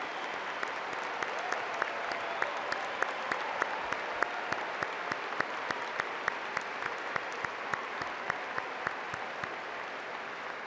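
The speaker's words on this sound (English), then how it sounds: "please stand and applaud the newest members of our UNI alumni family" A university commencement audience applauds steadily for new alumni, a soft, even wash of many hands with faint individual claps standing out, fairly distant and sustained throughout.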